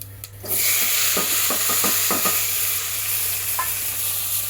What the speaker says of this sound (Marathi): सो आतां जाली फोडणी घातला, जावपाक येयलें